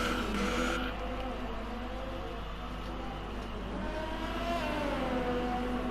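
A Ferrari race car engine heard onboard in a racing game at the Bahrain round, a steady droning whine with shifting pitch under a constant low rumble, with no speech.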